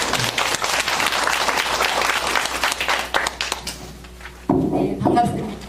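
A conference hall audience claps loudly and steadily for a panel discussant, the dense applause fading out before a voice comes in over the last part.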